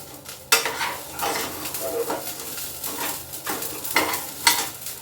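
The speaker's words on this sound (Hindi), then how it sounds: "मैं एक्चुअली लंच बना रही हूँ तो थोड़ा भून रही हूँ कहीं जल ना जाए।" Lunch being stir-fried and browned in a pan, with steady close sizzling broken by repeated scraping stirs and occasional utensil knocks against the pan, no voices.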